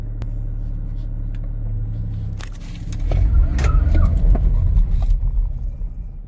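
A Suzuki Grand Vitara hybrid car drives at speed and then brakes: a steady low road and engine rumble swells louder midway, with some knocks and clunks in the loud stretch, and no talk.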